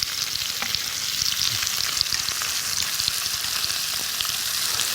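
Steady, loud sizzling as pork belly and onion stir-fry in a hot pan, a dense continuous hiss with faint scraping and clatter from stirring throughout, no voices.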